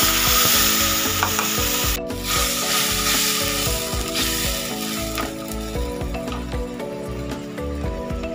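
Steady sizzling of onions and spices frying in a hot pan, with scraping and stirring clatter throughout, fairly loud and close.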